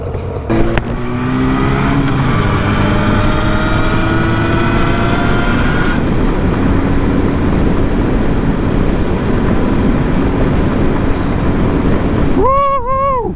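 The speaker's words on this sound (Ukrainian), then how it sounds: "Я їду на яві по Чернігову" A fire-damaged, rebuilt Jawa 350 motorcycle ridden through the streets of Chernihiv: the engine note climbs steadily as it accelerates, under constant loud wind and road rush, with a short warbling tone near the end.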